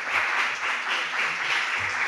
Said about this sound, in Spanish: pido un aplauso muy fuerte